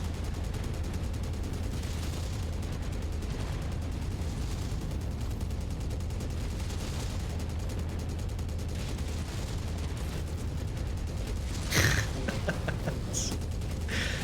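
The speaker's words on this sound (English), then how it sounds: "It feels like these machine guns are doing nothing." Mech machine guns firing in the MechWarrior video game, a dense continuous rattle of rapid shots under rumbling engine and battle noise, with a sharp louder impact near the end.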